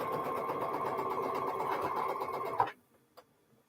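Sewing machine stitching the final seam on a quilt block, a fast steady mechanical whir that runs continuously and then stops abruptly, followed by a single faint click in near silence.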